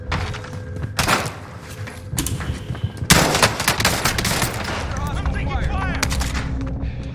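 Rapid bursts of burst-fire rifle gunfire crackle amid game sound effects in Call of Duty: Warzone, with sharp shots and rumbling impacts, while someone talks over the action.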